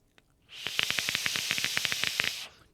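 Dense crackling and sizzling from a Tobino RDA vape atomizer coil fired at 50 watts on PB Party e-liquid in a squonk setup: a steady hiss peppered with rapid, sharp pops for about two seconds, close and fairly loud, with no talking.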